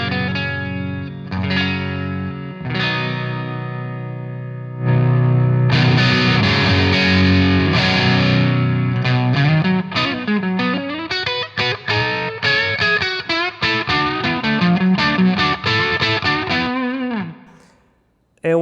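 Electric guitar through a tube-versus-solid-state power amp setup, starting with a fat clean tone, then strummed chords and quick single-note runs with light overdrive grit, loud and close, no talking.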